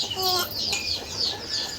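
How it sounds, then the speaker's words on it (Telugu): Chicks and hens cluck and peep in short, bright bursts close by, several calls overlapping in a busy rural yard. "ఏంటి బాబు కోడి పిల్లలా?"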